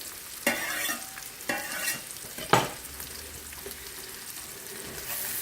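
Garlic frying in a pan with sausage and spinach, giving a steady sizzle broken by a few sharp scrapes and clatters of stirring, fairly close and alone.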